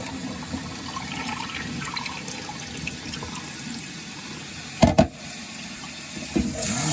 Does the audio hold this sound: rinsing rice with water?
yes